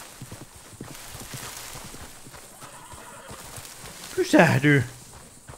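Horse in the Western video game Red Dead Redemption 2 gives a short, loud whinny near the end, after a stretch of faint ambient noise with someone speaking briefly.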